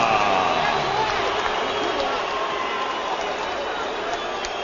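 A boxing crowd in Managua, Nicaragua roaring for Ricardo Mayorga, a loud sustained wash of cheering that fades slightly, with a commentator talking over it.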